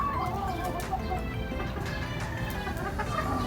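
Boston Esculin line gamefowl kept on a rooftop cluck and murmur continuously at close range, with a few sharper calls cutting through a busy background.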